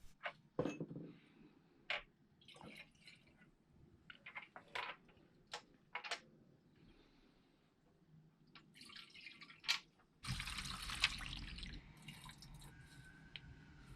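Petrol drips and splashes sparsely while a BMW N57 diesel intake manifold is being cleaned. The drops are faint and irregular, and near the end a louder, continuous liquid pouring or sloshing sound comes in.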